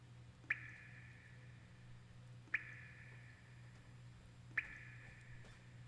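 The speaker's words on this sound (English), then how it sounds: "Just listen to the sound of that water dripping." Water drips in Resident Evil CODE: Veronica, three distinct drops spaced about two seconds apart, each a short bright plink with a brief ringing tail over a steady low ambient hum.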